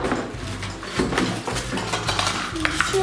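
Toy kitchen cups and spoons being handled: light, rapid clinks and clatters of small utensils and dishes, close and busy for a few seconds with no talk.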